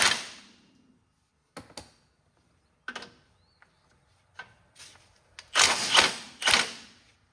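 A wrench ratchets and clicks on the muffler nuts of a Cub Cadet lawn tractor, sparse metallic clicks and short scrapes close by, building into louder rattling bursts near the end.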